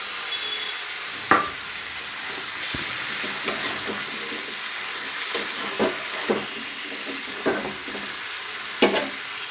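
Boiled pumpkin pieces sizzle and hiss in a hot pan, a steady frying crackle broken by several sharp clinks and scrapes of stirring.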